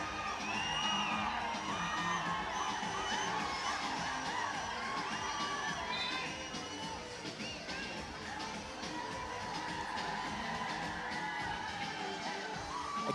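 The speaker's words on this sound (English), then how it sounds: "The crowd picked up a little bit now that they're back." Crowd at a 3BL three-on-three basketball game in Bangalore, Hyderabad Ballers versus Goa, cheering and shouting steadily throughout, a dense roar of voices with whoops rising over it, swelling slightly near the start.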